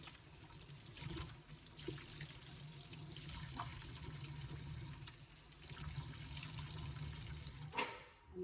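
Water rinses and splashes steadily during mould scrubbing, a soft continuous running and trickling with a few brief surges, faint and close, with no talking.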